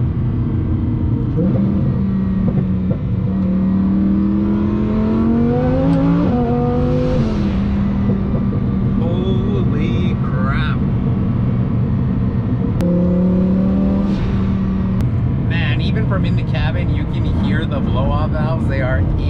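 A twin-turbo Lamborghini Huracan pulls hard from inside the cabin. Its loud engine climbs steadily through the revs with a gear change, then surges again, with turbo whooshes and a clear whistle. A voice talks over it.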